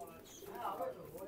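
Omani and Teddy pigeons coo softly in a loft, a low throaty burbling call heard faintly near a person speaking.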